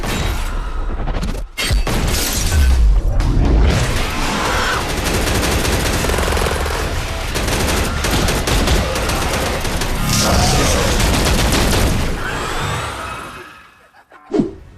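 Heavy gunfire from the dark weapons in the video game The Darkness: sustained loud volleys and rapid bursts with deep booms, nearly continuous for the length, cutting out briefly near the end before a final hit.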